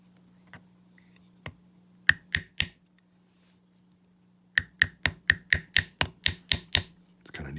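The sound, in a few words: hammering a brass sax mouthpiece on a mini anvil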